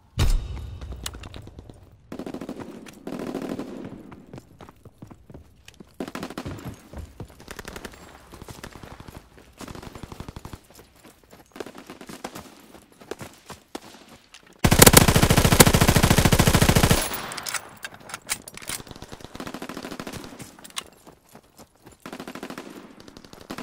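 ZK-383 submachine gun fire in the World War II shooter Call of Duty: WWII, loud rapid automatic bursts repeating throughout, with one long sustained burst near the middle, amid battle noise and no talk.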